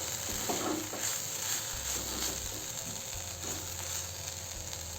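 Soybean bhurji with garam masala is stirred in a hot pan, a spatula scraping and clicking in uneven strokes over a low, continuous sizzle, close and without talk.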